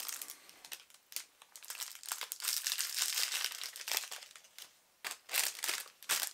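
Crinkling of a plastic packaging bag from a budget online order, a series of close, loud rustling bursts with brief pauses between handlings.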